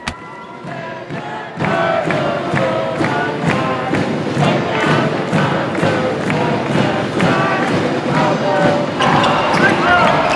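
Play in a boys' school basketball game in the Region V championship: a ball dribbled in a steady, quick rhythm of sharp bounces on the court over constant loud crowd noise and shouting.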